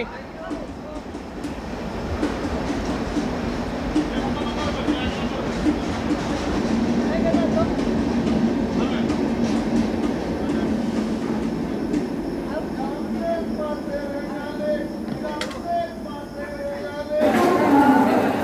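A passenger train of LHB coaches on the Coromandel Express pulls into Bhubaneswar station, a loud rumbling approach with rail clatter and screeching under station noise and chatter, ending in a sharp hiss.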